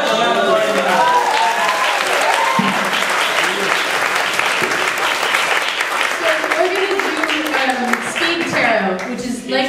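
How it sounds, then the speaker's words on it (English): A live show crowd applauds as a tarot reader takes the stage, with loud, sustained clapping, cheers and whoops and some voices mixed in over the whole stretch. "So please clap for Madam Marty McConnell."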